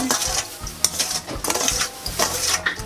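Keto liver seasoning mixture with sweetener, keto seasoning powder and chili flakes being stirred in a pan, a utensil repeatedly scraping and clinking against the metal in steady strokes, close and fairly loud with no talking.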